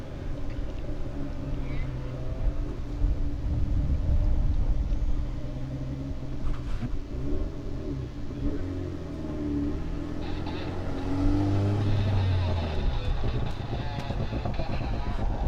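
Rally car engine rumbling and surging as the car slides loose through a stage at the Algoa National Rally near Port Elizabeth, a steady low drone that swells and eases beneath a commentator's voice.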